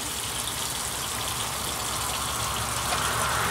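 Water runs in a steady continuous gush from a tap while a makeup brush is rinsed on a cleaning mat, a close, even hiss with no talking.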